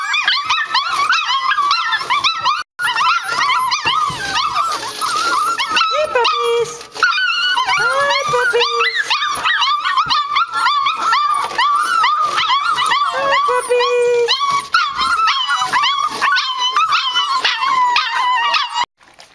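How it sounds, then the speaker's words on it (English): A litter of kelpie puppies at a ranch yipping, barking, howling and whimpering almost nonstop, a close, loud, overlapping chorus of high-pitched cries. "Here's the puppies."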